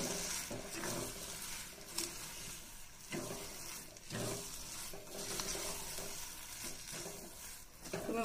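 A spoon stirs sugar and cardamom powder into semolina sheera in a pan, giving soft repeated scraping strokes over a faint sizzle, close and fairly quiet.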